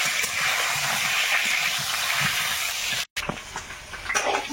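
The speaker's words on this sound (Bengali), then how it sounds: "আলুটা এইদিকে চাপিয়ে দেবো," Potatoes fry in hot oil in a wok during home cooking in the Sundarbans, giving a steady, bright sizzle that continues throughout, with a brief dropout near the three-second mark.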